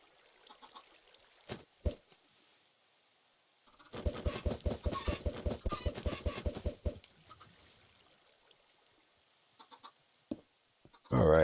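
Chickens in a modded Minecraft game cluck in a quick run of repeated clipped calls in the middle, with a few isolated pops and knocks before and after and a loud burst at the very end.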